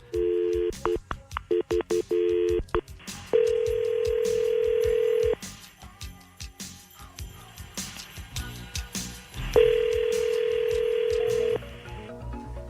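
Phone call placed during a live radio show: a burst of dialing tones, then long evenly spaced ringback tones with gaps between, clear and close with no talk.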